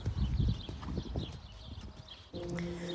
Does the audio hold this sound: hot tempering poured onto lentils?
no